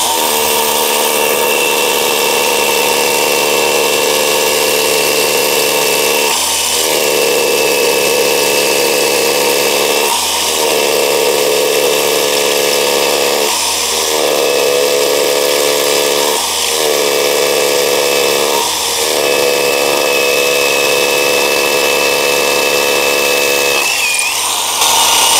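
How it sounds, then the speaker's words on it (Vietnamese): Hukan cordless rotary hammer with a 15C battery drilling concrete with a 12 mm bit, a loud continuous motor whine broken by several short pauses and restarts, with no talking. "Đấy, xuyên bê tông mũi 12."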